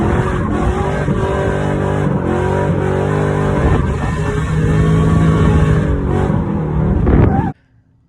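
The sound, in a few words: car engine revving with Comp Cam Stage 2 HRT camshaft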